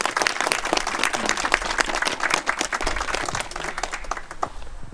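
Crowd applause at a memorial gathering for a fallen activist, with dense, sharp handclaps sustained at even strength for several seconds and no speech on top.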